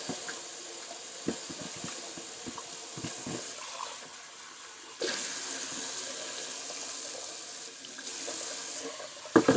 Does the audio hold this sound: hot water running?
yes